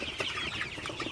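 Sonali super hybrid chickens on a farm cluck and chatter in short overlapping calls, a close, busy flock sound with no talking.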